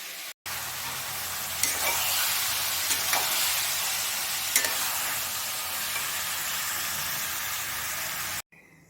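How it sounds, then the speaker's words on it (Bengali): Fish curry with gravy being stirred in a pan, a steady close sizzling hiss with a few faint scraping knocks of the spoon, no voices. "এবার একটু ভালো করে মাছ আর তরকারিটাকে মিশিয়ে নিয়ে একটু কিছুক্ষণ ফোটাবো"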